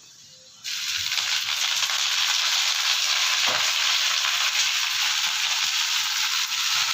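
Spinach hits hot oil and bursts into a loud, steady sizzle that continues unbroken, close up, with a faint scrape partway through.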